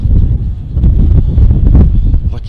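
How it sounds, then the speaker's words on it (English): Strong gusts of wind buffet the microphone outdoors in the middle of South Dakota, a loud low rumbling roar that surges and dips across the short stretch with no talking. "The wind's just blowing it out."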